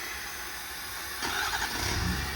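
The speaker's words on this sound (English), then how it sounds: "And also start the truck right back up." A 2019 Ford F550 service truck with a 6.7 diesel cranks and fires up partway through, after a quiet stretch of low background hum, then settles into a rough idle.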